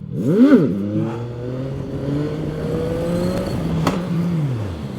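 A CFMOTO 675NK motorcycle revs hard and accelerates through second gear during a wheelie, the engine note climbing in rising sweeps after an opening blip, loud and close with no talk.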